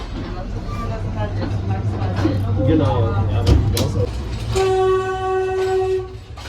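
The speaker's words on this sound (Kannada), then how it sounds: "ಈಗ ನಮ್ಮ ಟ್ರೈನ್ ಮೂವ್ ಆಗ್ತಾ ಇರೋದು" Low rail rumble with a steady hum as a third-class passenger train in Sri Lanka starts to move, and a train horn blares clearly near the end as voices murmur faintly in the background.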